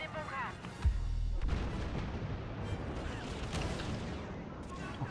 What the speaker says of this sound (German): Gott, überall Granaten.